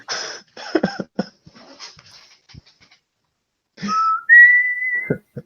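A voice imitates a captain blowing a whistle during a tabletop game session, giving a rising then steady pitched whistle-like tone after a stretch of breathy chatter and noises, fairly close and clear.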